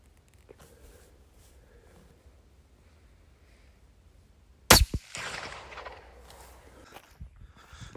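A single sharp, loud rifle shot, fired while zeroing a thermal scope, cracks out of near silence, followed by a few seconds of rustling and handling noise.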